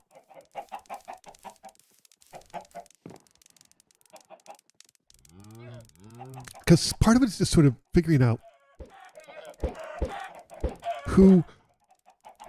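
Chickens clucking in Minecraft, a series of short blocky clucks scattered across the stretch, mixed with and partly under someone talking.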